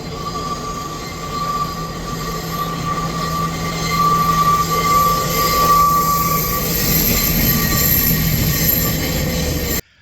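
A train rumbles past close by in Ella, Sri Lanka, its wheels squealing in a long, high metallic whine over a steady heavy roar before cutting off abruptly.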